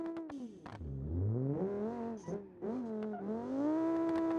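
A CVT-equipped modern sports sedan in a BeamNG driving game hums through the engine, its pitch sagging, climbing and then holding a steady drone as the car is driven around, loud and close with no talk.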